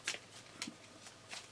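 A quick riffle of Pokémon trading cards being shuffled, followed by a few soft flicks and taps, close and fairly quiet, with no voices.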